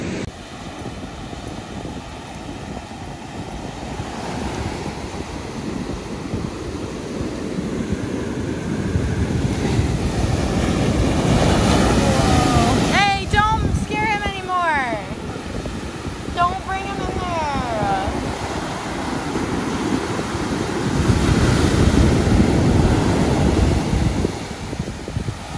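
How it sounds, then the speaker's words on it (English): Ocean surf rolls in at Virginia Beach on the East Coast, a loud, sustained wash of breaking waves mixed with gusting wind across the microphone, with a few brief high squeals partway through. "we're in Virginia Beach, checking out some of these East Coast surfable waves"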